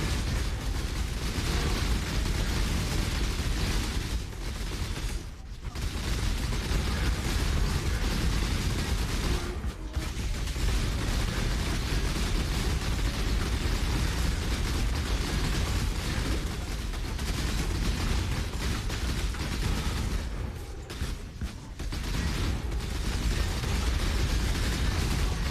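Continuous dense barrage of explosions from Detonate Dead in the action RPG Path of Exile, loud overlapping blasts and crackling bursts filling the whole stretch with only brief lulls.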